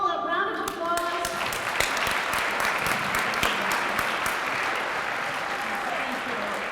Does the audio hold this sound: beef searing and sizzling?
no